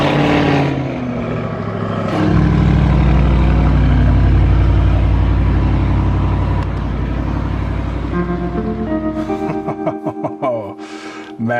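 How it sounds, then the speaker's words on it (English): An Audi RS performance car's engine roars loud and close, swelling into a sustained heavy rev before dropping into crackling, stuttering exhaust pops near the end. "Oh, man, that car sounds good."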